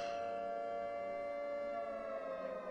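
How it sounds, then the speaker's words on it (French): A civil defense siren in a video game wails as a steady, sustained tone, loud and alone with no talking over it. "Juste une sirène."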